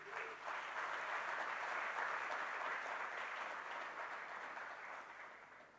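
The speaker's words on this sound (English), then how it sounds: "So I think we should hear a big round of applause for all of you." An audience at an Indian nightlife convention and awards inauguration applauds in a broad, sustained wash of clapping that swells quickly, holds for several seconds, then gradually fades.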